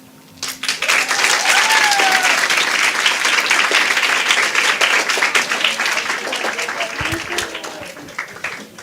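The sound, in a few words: audience applause for speaker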